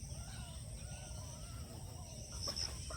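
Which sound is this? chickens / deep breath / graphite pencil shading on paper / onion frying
chickens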